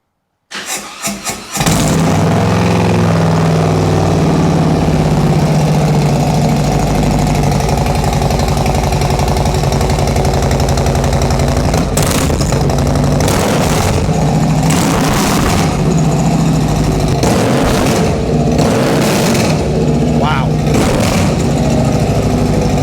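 A 2021 Harley-Davidson CVO Road Glide with a Stage 2 upgrade cold-starts after a brief crank, then settles into a loud, close, lumpy V-twin idle broken by several sharp throttle revs.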